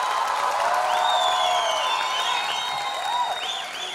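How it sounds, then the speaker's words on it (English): An audience at a Shiamak Davar summer dance show applauds and cheers, with clapping mixed with whoops and rising whistles throughout, fairly loud and sustained, tapering slightly at the end. "one huge round of applause for the living legend Shamak Davar"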